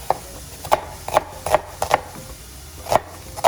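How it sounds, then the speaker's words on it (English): A knife chops white onions and cilantro on a cutting board while quesadillas are being made, giving about seven sharp, close taps at an uneven rhythm with short gaps between them. "Now we're gonna have the nice white onions with cilantro as a topic for our quesadillas."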